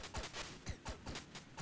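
Rapid shots from the video game Owlboy, a quick run of about five sharp, faint pops spaced evenly over a second and a half, alone without talk.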